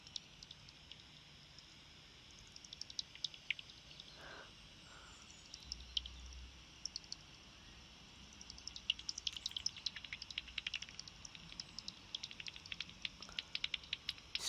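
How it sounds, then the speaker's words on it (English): Bats, likely pipistrelles, echolocate while hunting, picked up through a bat detector as scattered dry clicks and ticking patter that thicken into rapid bursts, faint against a steady background hiss. "So what you're hearing right now are bats hunting"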